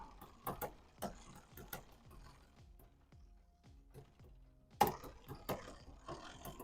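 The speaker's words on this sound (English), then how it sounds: "we need to back off our B-limit screw a little more, which will allow that chain to finally come out." The chain of a Cruzbike S40 recumbent bike clicks and clatters across the rear derailleur cogs while the B-limit screw is adjusted, with scattered close metallic ticks, ratcheting and a few sharper clanks heard alone.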